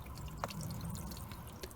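Water drains out of a VW T5 windshield washer fluid bottle outdoors, a soft trickling and dripping with a few distinct drops over a faint background, quiet and close.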